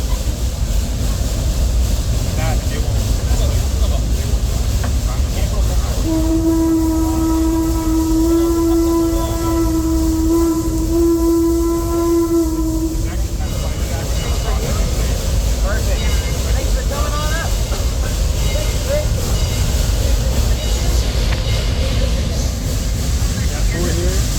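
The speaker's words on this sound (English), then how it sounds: "he's about to blow the whistle any second now" A train rumbles steadily close by, and partway through a long, loud whistle blast sounds for several seconds before fading back into the rolling noise.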